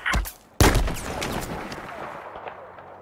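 Gunfire in the video game God of War Ragnarok: a sharp shot, a brief gap, then a loud blast with a long, echoing decay that fades over a couple of seconds.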